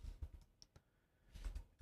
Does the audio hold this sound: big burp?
no